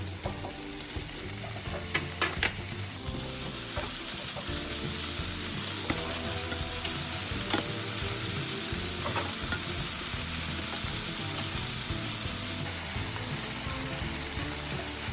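Potatoes and eggs stir-fry in a pan with a constant, close sizzle, while a utensil scrapes and clacks against the metal in scattered strokes throughout.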